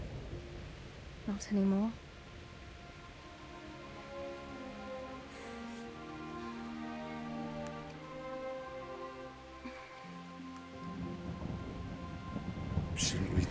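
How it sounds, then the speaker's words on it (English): Thunderstorm with rain in the video game Kingdom Come: Deliverance, a steady hiss of rainfall with low rumbling swells that build toward the end, while a short line of speech and sustained music play over it. "Not afraid of thunderstorms, are you?"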